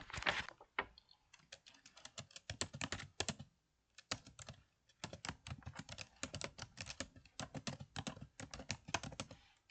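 Fingers typing on a computer keyboard while entering text into cells, rapid bursts of sharp key clicks with brief pauses between runs, close and clear with no voices.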